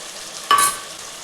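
Ground shallot paste drops into hot oil for mutton curry, a single sudden burst of sizzling spatter that flares loudly for a moment and then settles to a faint hiss.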